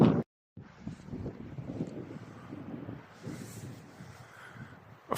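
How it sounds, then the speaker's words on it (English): Strong wind on a hillside near waterfalls buffets the microphone with a steady, low, rumbling roar that rises and falls, after a brief moment of silence at the start. "Very windy at the moment now. It's picking up."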